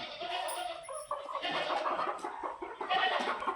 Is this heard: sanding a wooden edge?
no